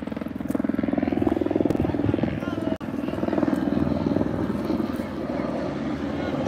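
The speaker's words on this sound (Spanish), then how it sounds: "Parece que van a mandar un helicóptero, parece que ahí viene." A firefighting helicopter passes close overhead during a wildfire response, its rotor thumping loudly and steadily throughout, with people talking beneath the noise.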